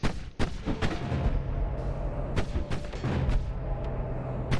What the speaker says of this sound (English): Ah, that's what's causing explosions. It's the holy bombs my ghosts are throwing.